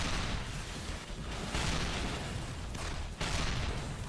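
In a Gundam Dynasty Warriors video game, cannon fire sounds as a few heavy booming blasts at spaced intervals over dense, continuous battle noise. The mix is fairly quiet, with no talking.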